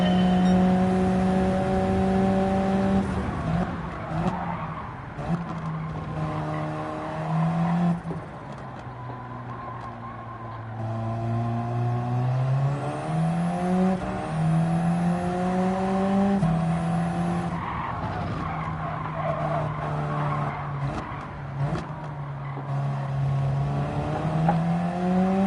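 A race car in Gran Turismo 7 drives laps, its engine droning loudly and steadily with rising and falling revs through gear shifts, braking and acceleration, and occasional tire squeal.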